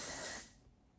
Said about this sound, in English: So just going to spray that all over, and I lift sections of my hair